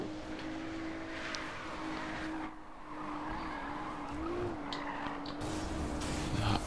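A Ferrari engine accelerates in Need for Speed Rivals, a steady humming drone with a slight rise in pitch, along with tire skidding and road noise. The sound is fairly constant and moderately loud.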